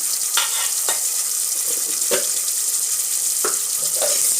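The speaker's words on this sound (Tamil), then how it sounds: "இப்போ எண்ணெயில் கொஞ்சம் நல்லா வதங்க விட்டுடலாம்" Chili paste sautés in oil in a pan, a continuous hissing sizzle with a few brief scraping stirs standing out from the bed of frying noise.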